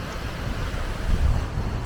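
Choppy waves on cold Teslin Lake in the Yukon wash and slosh steadily nearby, with a low rumble of wind buffeting the microphone and a slight surge near the end.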